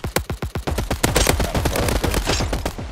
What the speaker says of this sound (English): There's shots around here.